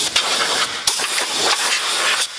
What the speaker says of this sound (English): use a little compressed air